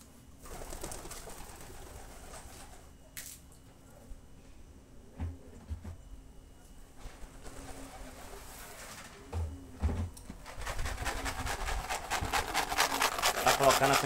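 Pigeons gather at a street feeding spot, soft cooing and wing-rustle textures sounding close amid outdoor ambience, with brief scraping and handling noises and a rising broadband rush toward the end.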